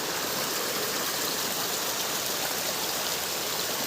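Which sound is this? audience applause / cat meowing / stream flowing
stream flowing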